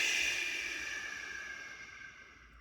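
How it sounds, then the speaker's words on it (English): A slow, audible exhale during a breathing exercise: a soft, breathy hiss lasting about two and a half seconds that gradually fades, faint and alone with no talking. "And nice big belly, and breathing out."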